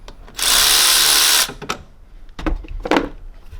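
A power tool whirs for about a second while loosening a 10mm bolt on a Mitsubishi Triton intercooler hose clamp, followed by a few scattered clicks and knocks of handling close by.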